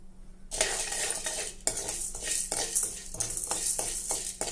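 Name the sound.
roasting masala and dal in a kadai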